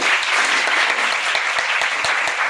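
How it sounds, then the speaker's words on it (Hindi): Loud, dense applause from an audience at a corporate training program, a steady wash of many hands clapping throughout with no break. "इनके लिए जोरदार ताली होना चाहिए."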